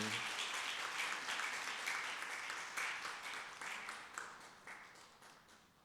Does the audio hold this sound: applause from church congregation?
yes